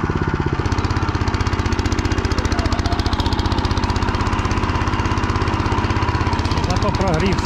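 A motorcycle engine idles steadily after warming up in a snowy forest, close and loud, with a fast, even chugging pulse throughout.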